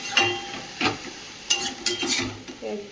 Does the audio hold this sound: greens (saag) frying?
yes